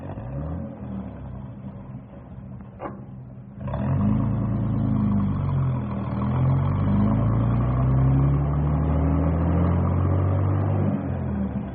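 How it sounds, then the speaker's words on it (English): A bus engine revs up and rumbles steadily as it pulls away, loud and close, with a brief clatter just before. "we better get this bus rolling"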